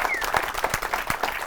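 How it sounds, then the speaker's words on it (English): Brief burst of applause from an audience at an AI tech talk, a short patter of claps that sounds fairly distant and moderately loud. "let's give a huge round of applause for David"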